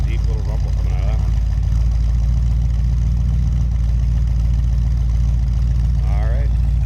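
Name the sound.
1962 Ford Thunderbird 390 engine idling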